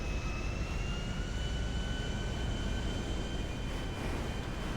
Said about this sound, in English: It's a big plane.